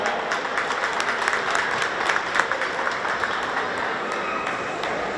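Steady applause fills a boxing champion's plaque presentation ceremony, many hands clapping continuously and evenly at moderate volume with a faint murmur beneath.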